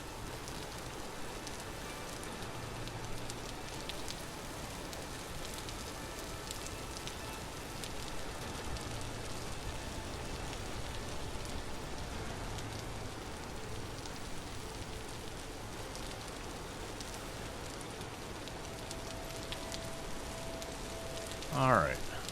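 Steady rain in the video game Vintage Story patters and hisses continuously throughout, an even wash of dense drops with a faint low hum beneath and a brief bright clatter near the end.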